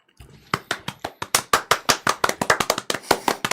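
A small group gives a light golf clap, a loose patter of quick, crisp hand claps that builds briefly then trails off over a few seconds.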